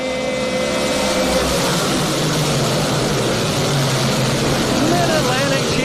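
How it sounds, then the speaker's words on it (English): Modified stock cars roar together at Georgetown Speedway during a Short Track Super Series feature race: a dense, loud, continuous engine drone with rising and falling pitch sweeps as the cars pass, under a race announcer's voice. "The mighty modifieds are ready to rumble."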